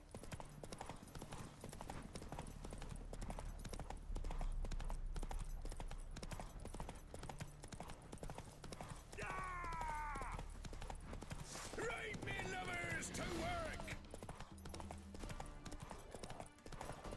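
Horse hooves clip-clop steadily on the ground in The Witcher 3, a continuous walking rhythm with game ambience behind, and a brief whinny-like call breaks in near the end.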